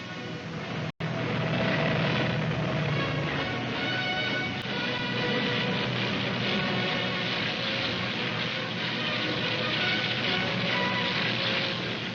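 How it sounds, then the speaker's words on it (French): German warplanes taking off in a 1940 WWII newsreel, a loud, steady, dense propeller-engine drone holding for the whole stretch after a brief dropout near the start, with no speech. "Sans répit, les avions allemands s'envolent vers l'Angleterre."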